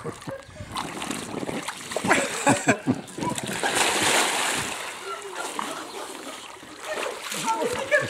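A person splashes and sloshes in water, probably a small makeshift pool lined with plastic sheeting. The splashes come in repeated, uneven bursts, with voices talking over them.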